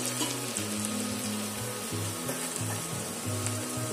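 Chopped onion and garlic frying over low flame in a pan, a steady close sizzle running throughout with faint stirring scrapes, no talk.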